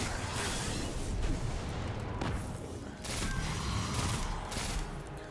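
Sustained gunfire in the Destiny 2 video game, a dense, continuous barrage of shots and booms with rising and falling intensity and no talking over it.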